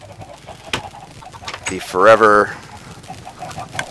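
A Minecraft chicken gives a short, clear cluck midway, set among soft clicks and quiet game background, with a voice briefly speaking.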